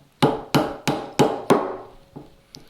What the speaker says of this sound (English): Right now I just have to chop the mortise.